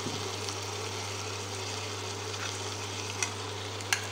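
Eggs and potatoes frying in a pan while being stirred, a steady soft sizzle with a low constant hum underneath and a couple of sharp clicks near the end, no voices.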